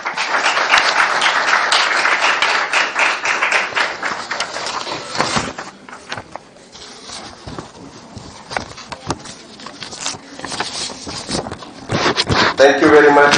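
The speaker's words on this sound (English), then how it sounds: "We must have lots of clapping for those that have come from far-flung areas." Audience clapping at a course closing ceremony in Quetta, loud sustained applause that fades in the middle and swells again at the end, with some voices mixed in.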